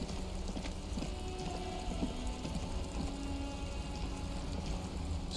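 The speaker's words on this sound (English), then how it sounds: "Stuck in the rain in a traffic jam, man." Steady rain falls in the Disco Elysium video game, a continuous dense patter that holds evenly throughout with no voices.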